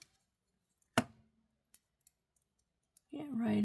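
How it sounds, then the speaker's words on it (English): Scissors give a single sharp snip, then two or three faint clicks on a small craft piece, followed by a voice starting to talk at the end. "Now we're going to snip off this excess."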